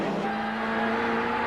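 Touring race cars lapping Silverstone in the 1990 British Touring Car Championship, heard as a loud, sustained engine roar with a steady high whine, with no voices.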